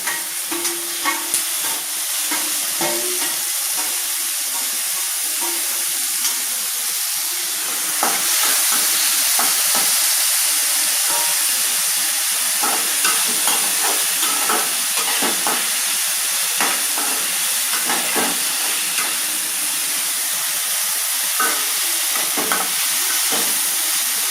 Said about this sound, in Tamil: வெங்காயம் நல்லா வதங்கிடுச்சு தக்காளியை சேர்த்துருங்க